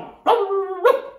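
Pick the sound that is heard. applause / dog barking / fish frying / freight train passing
dog barking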